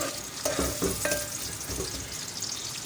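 Chopped onions fry in a pan for chana dal, a steady close sizzle with stirring scrapes and a few light utensil taps.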